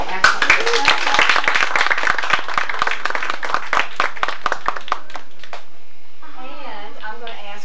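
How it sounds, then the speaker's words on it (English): A seated audience claps in a long burst of applause for a finished presentation, many hands at close range, fading out after about five seconds as a single voice begins speaking. "we want to give you a nice round of applause for an excellent presentation"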